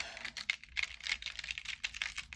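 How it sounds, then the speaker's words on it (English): Maker's tape peeled off a craft stencil with a quick, close, crackly tearing sound in short bursts, quiet and without speech. "What I'm going to do now is just peel off that maker's tape"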